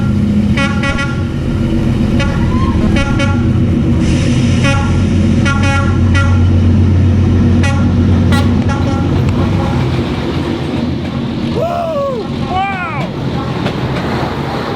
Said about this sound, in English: that famous Hanoi train street where the trains go through the street